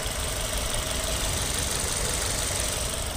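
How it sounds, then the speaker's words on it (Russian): A Mitsubishi Delica D2 Hybrid engine idles at a Moscow used-car market, heard up close with the hood open as a loud, steady, even hum with a fine rhythmic ticking and no break. "уже реально очень гладко работает двигатель"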